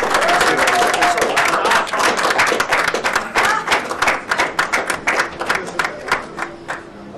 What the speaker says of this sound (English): A big round of applause for Jeff Kimber.